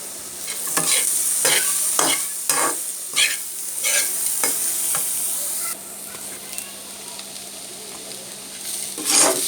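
Grated coconut and green chili paste frying over a medium flame, with a steady close sizzle and a run of rhythmic scraping stir strokes that fade to a quieter hiss before one last stir.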